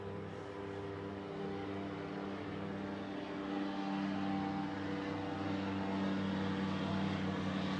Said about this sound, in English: And here comes another plane overhead, so it'll be noisy for just a minute.